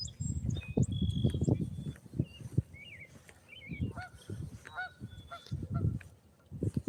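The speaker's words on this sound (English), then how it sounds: "You hear that goose? Canadian goose?" Canada geese honk loudly and repeatedly nearby in irregular bursts, with some calls overlapping and short pauses between the volleys.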